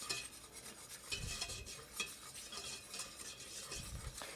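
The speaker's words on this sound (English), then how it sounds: "we're going to toast that flour up" Gluten-free flour being stirred as it toasts in a pan for gravy, a steady close scraping and stirring with light clinks of a utensil against the pan over a faint sizzle, no voices.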